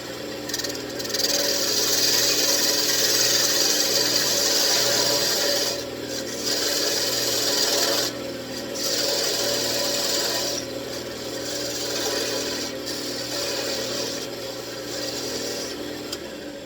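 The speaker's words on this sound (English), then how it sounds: "Let's start with some plunge cuts." A wood lathe turns a walnut blank while a tool makes plunge cuts, giving a continuous close scraping rasp broken by several short pauses, with no talking.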